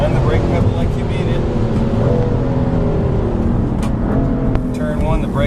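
A 2015 BMW M3 or M4 sits under steady engine and road noise while braking into Turn 1 at Road America, with the pitch shifting as it slows. A person talks over it throughout.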